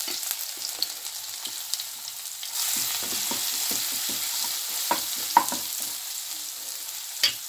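Cumin seeds and grated ginger sizzle in hot oil in a kadhai, a steady hiss with scattered small pops and light stirring taps, close and continuous, no talking.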